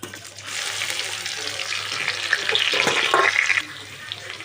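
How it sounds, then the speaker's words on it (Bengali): Onion mixed with beaten egg, tomato and green chilli hisses in a hot wok, a continuous bright sizzle that swells and grows more crackly toward the end before dropping away. "পেঁয়াজটা ভাজা হচ্ছে"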